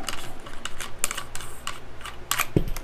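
Metallic ticking and clicking as the magazine tube retaining nut is unscrewed from a Mossberg shotgun, a series of close, sharp mechanical ticks ending in a louder clunk, with no speech.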